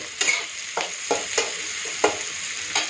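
Onion, peas, capsicum, cauliflower and carrot stir-fry in a wok for veg pulao, with a steady close sizzle and a spatula scraping through them in regular strokes.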